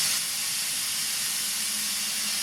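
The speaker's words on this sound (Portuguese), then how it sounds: "Esse zum zum zum que você está ouvindo aí é a minha panela de pressão que está carne seca" A pressure cooker steaming dried beef gives off a steady, loud, broadband hiss that holds constant throughout with no voices over it.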